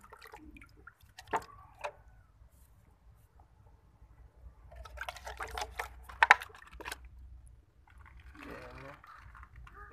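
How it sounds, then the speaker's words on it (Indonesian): Water trickles and patters irregularly onto water spinach planted in a gutter pot, with a steadier splashing stretch in the middle and scattered drips, quiet and close. "Kita siram secara merata ya, agar media tanamnya ini menjadi basah."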